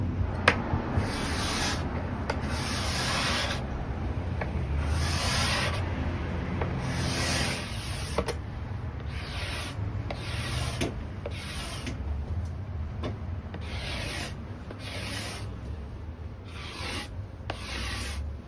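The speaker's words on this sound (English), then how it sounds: "for the top, I'm not gonna sand it, I'm gonna scrape it." A hand scraper is drawn across the wooden top of an industrial-style printer stand in repeated rasping strokes, each a few seconds long. The strokes come close and steady, with short pauses between them and no talking.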